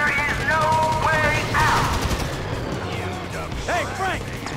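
Gunfire in Grand Theft Auto V during a heist shootout, rapid cracking shots and bursts mixed with game sounds and shouted character dialogue, dense and continuous.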